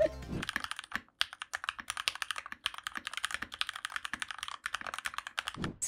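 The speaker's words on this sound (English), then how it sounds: "You can listen to the typing test" Fast, continuous typing on an upgraded budget mechanical keyboard with a thocky sound, crisp clacky keystrokes close up with a brief pause near the beginning.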